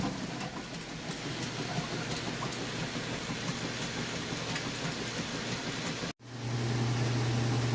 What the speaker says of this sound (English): The agitation does in fact work great.